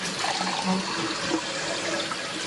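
Tap water runs steadily in a home near fracking sites on Carter Road in Dimock, a continuous close splashing hiss with faint background sound.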